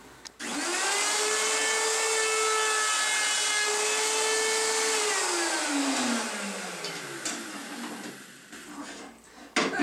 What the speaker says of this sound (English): So switch bits to the chamfer bit and chamfer the plates.